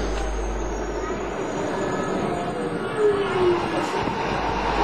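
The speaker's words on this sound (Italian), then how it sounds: "Questa è l'importante metro tramvia sud." A Milan southern metro-tramway train rolls along its rails with a loud rumble and a rising wheel squeal midway, a brief lull, then heavy rolling noise again.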